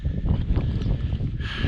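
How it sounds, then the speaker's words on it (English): Rough, gusty mountain wind buffets the microphone in the rain, a low rumbling roar with fluctuating bursts, close and fairly loud for a couple of seconds. "Sorry about the wind."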